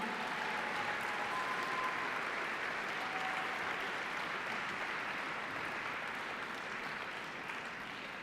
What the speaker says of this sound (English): You're getting a little more applause than we've had thus far